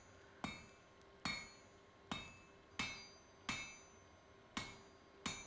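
A hammer strikes a steel bar on an anvil seven times in a slow, even rhythm while the smith forges a scythe and flattens the bar. Each blow rings sharp and metallic and stands alone in an otherwise quiet space.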